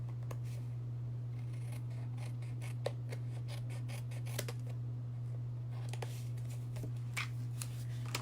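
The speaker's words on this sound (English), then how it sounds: "we're gonna go ahead and cut it" Scissors snipping through cardstock for a handmade card, a run of quiet, close, irregular crisp cuts over a low steady electrical hum, without any talking.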